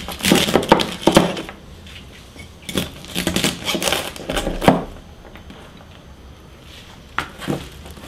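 Longshucai, a Taiwanese leafy vegetable, being cut on a board: bursts of crisp chopping clicks in clusters, then pauses, then a few more isolated cuts, close and fairly loud.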